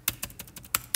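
Keys on a computer keyboard are tapped in a quick, uneven burst of about six close, crisp clicks.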